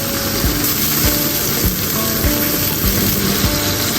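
Tomato paste sizzling loudly in hot fried garlic-ginger paste, a steady close frying hiss with soft clanks of a spoon stirring in a regular rhythm.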